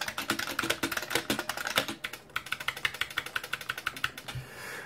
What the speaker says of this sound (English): my proclivity for bottoming out Cherry MX switches doesn't happen with this keyboard